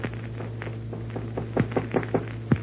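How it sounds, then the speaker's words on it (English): Knocking on a dressing room door as a radio drama sound effect: a run of several knuckle raps, the last few louder and closer, over a steady low hum with no voices. "somebody knocked at the door"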